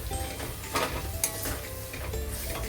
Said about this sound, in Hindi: अभी हम सूखे मसाला सारे ऐड कर देते हैं, एक साथ में ऐड करके थोड़ा सा भून लेते हैं।